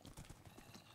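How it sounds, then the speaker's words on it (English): A horse clip-clopping in the Minecraft video game, a quick run of a few faint hoof knocks in a brief moment. "Another stupid horse."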